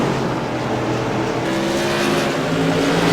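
Light modified race cars circle the short oval at Southern National Motorsports Park, engines droning loud and steady with a rising pitch as the cars work through the middle groove, no voices over them.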